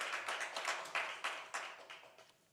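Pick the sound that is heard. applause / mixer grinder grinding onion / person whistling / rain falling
applause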